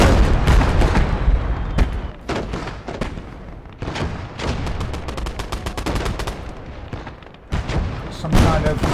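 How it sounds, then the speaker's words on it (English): Mortar fire in the game Blood Red Snow, loud repeated thuds and booms in a dense, irregular barrage amid gunfire, with voices talking throughout. "Okay, mortars."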